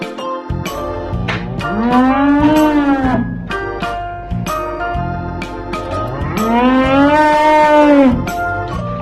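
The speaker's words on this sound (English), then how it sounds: "Cow." A cow moos twice, long loud bellowing calls close by, each rising and falling with a short pause between them.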